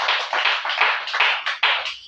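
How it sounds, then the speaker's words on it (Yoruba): Church congregation clapping for Jesus at a fasting and prayer service, a fast run of loud, close, roughly even claps with no voices. "Ẹ pàtẹ́wọ́ fún Jésù dáadáa"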